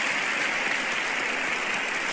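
Applause from an audience, a steady, dense wash of clapping hands heard throughout at moderate loudness, without breaks or voices.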